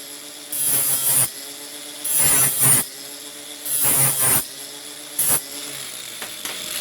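A hand file rasping a chamfer onto a 30 by 30 by 2 metal motor bracket, four close, loud scraping strokes of about half a second each, with a shorter fifth stroke and faint scrapes after.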